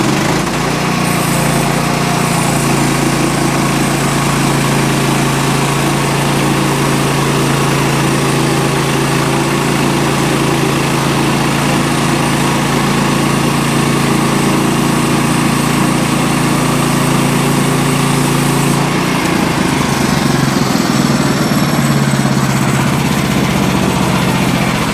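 A portable sawmill engine runs loudly and continuously while cutting through a log, holding a steady drone that shifts slightly in pitch near the end as the load changes, with no one talking.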